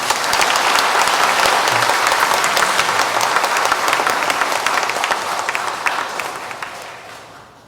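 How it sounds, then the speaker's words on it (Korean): A church congregation at a Farmers' Sunday Mass claps warmly to welcome a speaker. The applause is loud and sustained, then gradually fades away toward the end. "뜨거운 박수로 환영해 주십시오"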